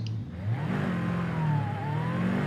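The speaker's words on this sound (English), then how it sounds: "It sounds like a nice healthy V8." A supercharged V8 in a Jaguar F-Type SVR revs inside a racing video game, rising and falling through the rev range with a steady mid-pitched drone and a supercharger whine above it.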